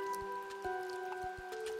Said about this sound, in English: Here in Raytown, it always seems to be raining a bit.